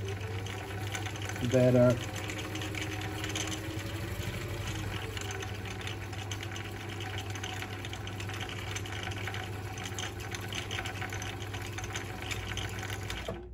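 Sewing machine steadily winding a bobbin, a close, constant motor whir with a low hum that runs the whole time, and one brief word spoken early over it.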